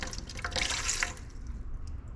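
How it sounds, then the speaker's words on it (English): Water trickles and drips faintly into a bowl for bread dough in a home kitchen, a brief splashy pour that fades into quiet. "we need 310 water in each of these bowls"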